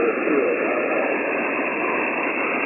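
Weak amateur radio station on the 20 meter HF band received on an Icom transceiver, a steady band-limited hiss of static with no clear voice, cutting off abruptly at the end.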